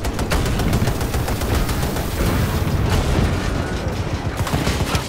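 Dense, continuous gunfire from Battlefield 2042 combat, rapid automatic bursts layered with booms and heavier blasts, loud and unbroken throughout with no talk.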